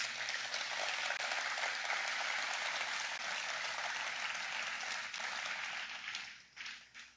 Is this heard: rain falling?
no